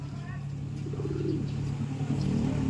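A racing pigeon coos softly in a low, rolling call over a steady low hum of background noise.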